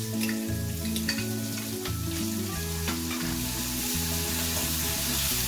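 Soaked urad and chana dal sizzle steadily in hot oil, a dense, bubbling crackle close to the pan that holds even through the whole stretch.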